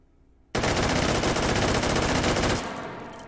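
A QBZ95 rifle firing a full-auto burst of 5.8x42mm rounds in the H3VR video game, a fast loud roll of shots lasting about two seconds, then a fading echo and a thin metallic ring.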